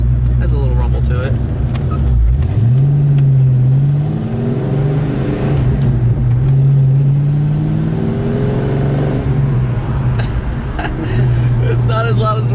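A Foxbody Mustang V8 running open headers revs up and settles back, a loud rough rumble with rising and falling pitch that stays close and constant, while people talk over it.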